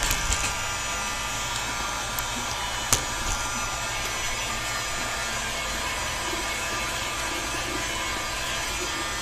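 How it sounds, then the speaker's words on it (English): A heat gun turned down low, blowing a steady, even whoosh of hot air over InstaMorph plastic, close and constant, with one faint click near the start. "Just take it, turn the heat gun way down."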